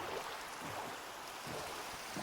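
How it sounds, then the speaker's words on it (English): Rain falling in the video game Minecraft, a soft, steady, wash-like patter that is faint and even throughout, with no voices. "it's raining."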